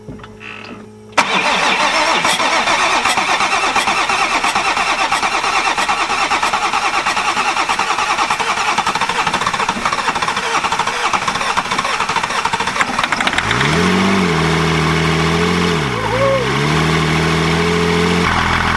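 A manual BMW X5 off-road build with a previously hydrolocked engine cranks and catches, then settles into a loud, steady idle. Near the end it rises and falls through two revs.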